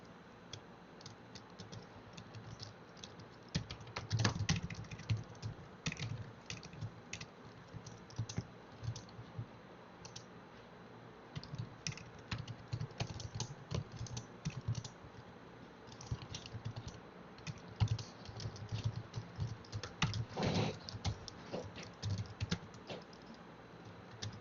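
Someone types a message on a computer keyboard in a steady patter of close, soft keystrokes with brief pauses, recorded alone without talk.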